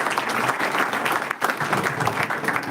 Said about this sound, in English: With applause, let us welcome sir